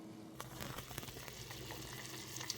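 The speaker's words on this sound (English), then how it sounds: "This is boiling really well." Food boiling in a covered pot on a stovetop, a steady bubbling hiss with soft pops, fairly quiet and close, no talking.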